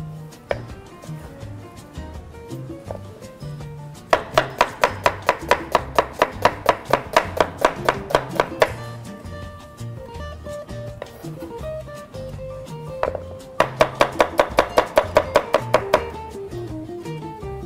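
The white part of an onion being chopped with a knife on a board: two long runs of quick, rhythmic, crisp knife taps, with a quieter pause between them, close and loud, no speech.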